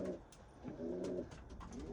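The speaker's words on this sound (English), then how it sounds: "a couple of birds have come down for a bit of a pick" Pigeons coo softly in a few low, rolling phrases at a feed tray at night, faint and fairly close, with no other sound around them.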